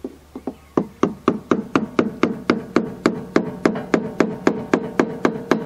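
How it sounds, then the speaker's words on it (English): Hammer striking a screwdriver to tap loose the oil filter on a portable sawmill: a steady run of about twenty sharp, evenly spaced metallic taps, close and loud, with no voices. "take a hammer and a screwdriver and just tap it just enough to turn it"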